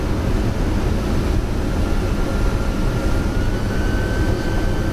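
Steady broadband roar inside the cockpit of a Boeing 747-200 jet airliner on final approach to landing, a loud continuous engine and airflow drone that holds level throughout, with a faint thin tone running above it.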